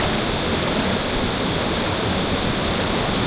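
Steady loud rushing water from a waterfall stream surrounds someone wading through shin-deep cold water beneath a pipe, a constant dense wash with no break.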